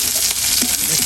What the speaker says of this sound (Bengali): রসুন কুচি দিলাম, পেঁয়াজ মরিচ দেওয়ার পরে প্রায় পেঁয়াজ মরিচগুলো হয়ে আসছে